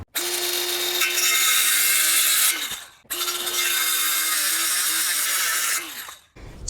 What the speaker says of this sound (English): I'm gonna use my circular saw, even though these cuts are slightly curved